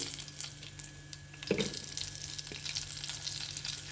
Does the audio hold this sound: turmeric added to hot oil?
yes